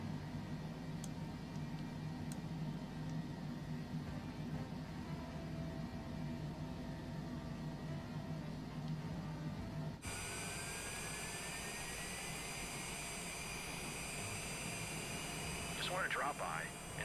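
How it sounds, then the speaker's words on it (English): A prop aircraft's number 1 engine spins up in Microsoft Flight Simulator 2024, a low cabin hum giving way to a rising whine and steady roar as the engine catches, with people talking over it. "We'll start up engine number 1 next."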